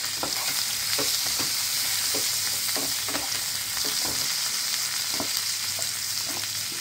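Turmeric and spices sizzling in hot frying oil for a Bengali potol aloo korma, a steady close hiss with the scrape of a spoon stirring in irregular strokes throughout, no talk.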